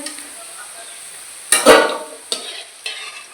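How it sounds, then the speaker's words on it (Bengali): Potatoes sizzle softly in hot oil, broken by a loud burst of frying when stirred, then a couple of smaller stirring scrapes. "তেলের ভিতরে আগে আমরা আলুগুলো ভেজে তুলে রাখবো"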